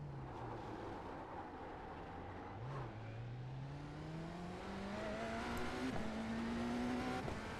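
Race car engine in the iRacing simulator video game, rising steadily in pitch as it accelerates through gears at moderate level, with a brief shift dip early on and no talking.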